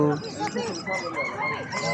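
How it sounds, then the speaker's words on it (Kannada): Chickens clucking with a rooster crowing nearby at a Kuwait Friday market, overlapping calls from several birds of different breeds, with a voice faintly mixed in. "ಡಿಫ್ರೆಂಟ್ ಟೈಪ್ ಕೋಳಿಗಳು"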